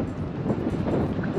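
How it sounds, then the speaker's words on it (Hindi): Strong outdoor wind buffets a microphone in Sudan, a continuous rough low rumble that swells and gusts unevenly, loud and close, with no clear speech. "काफ़ी हवा चल रही है, पता नहीं आवाज़ आ रही होगी नहीं आ रही होगी"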